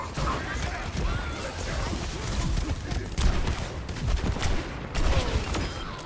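Gunfire in Overwatch 2 crackles in dense rapid bursts amid explosions and clattering effects, loud and continuous, with a voice talking over the action.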